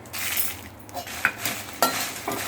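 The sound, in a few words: dry roasting red chillies with rock salt in a pan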